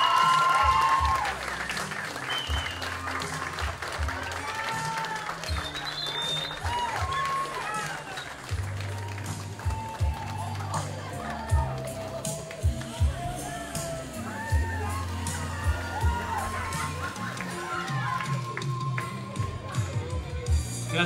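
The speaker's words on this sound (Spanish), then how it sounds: "Fuerte el aplauso." Guests at a Christian sweet sixteen party in Trenton, New Jersey applaud and cheer for the birthday girl, sustained clapping with scattered whoops and voices mixed in, continuing throughout.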